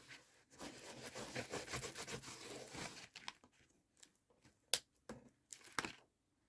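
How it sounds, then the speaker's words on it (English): A craft piece, glued with metallic glue, rubbed firmly by hand, giving several seconds of dense, close scraping friction, then a few short, sharp rubs and taps with pauses between them. "I'm just gonna turn it on the other side and just give it a good rub"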